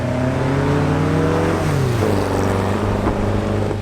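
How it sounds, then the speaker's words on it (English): 1956 Porsche 550 Spyder under way, its engine revving and shifting pitch through gears with a loud, close, raspy exhaust note and no talk. "And the sound it makes when you open up those throttle bodies is to die for."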